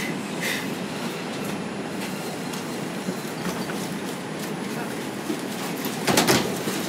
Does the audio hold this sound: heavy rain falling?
no